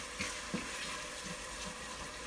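Knorr seasoning powder stirred into tomatoes frying in a pan for kale and collard greens, a soft continuous sizzle with a few light scrapes and taps of the spoon, quiet and close.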